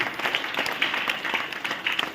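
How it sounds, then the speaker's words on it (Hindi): Steady applause from a crowd, a dense patter of clapping at moderate loudness throughout, with no voices over it. "इसके लिए एक हाथ ताली जोरदार होना चाहिए"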